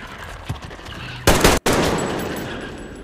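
Gunfire in the video game Metro Exodus, with a few faint shots early, then a loud close burst of automatic fire, a brief cutoff, and a fading echoing tail.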